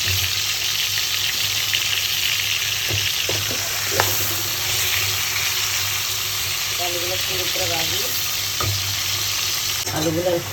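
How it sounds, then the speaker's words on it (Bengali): Potatoes hiss and crackle in hot oil for a beef kacchi biryani, a loud, dense, continuous sizzle with occasional stirring scrapes and faint voices in the background. "তেলটা গরম হয়ে গেছে, এই যে এবার আলু দিয়ে দেবো।"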